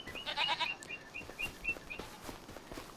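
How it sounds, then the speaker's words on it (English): Goats in a pen on a Farming Simulator 25 farm bleat a few times close up at the start, then quieter animal calls and light farm ambience continue. "Yeah, these are the goats."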